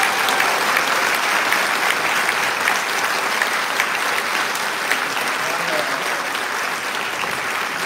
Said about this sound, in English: let's give all of our candidates one more round of applause